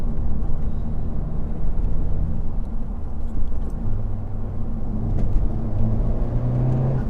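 Honda Civic Type R FK8 Limited Edition running in R mode, a steady low engine drone and road rumble from inside the cabin, moderate and continuous without clear revving.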